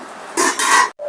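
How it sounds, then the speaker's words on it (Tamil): Rice being stirred into masala in a cooking pot for mushroom biryani, giving a few short scraping, clattering bursts of spoon against metal, close and alone. "2 கிளாஸ் அரிசியை நம்ம அதை அப்படியே மசாலாவோட சேர்த்து அப்படியே கிண்டி விடணும்"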